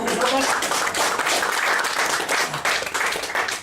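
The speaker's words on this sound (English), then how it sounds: "give this lady a round of applause" Audience applause for a volunteer woman at a magic show, a dense steady wash of many hands clapping close and loud throughout, with some voices mixed in.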